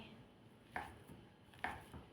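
A knife chops pork sausage into chunks against a cutting board in a few sharp, evenly spaced cuts, close and quiet, with no voices.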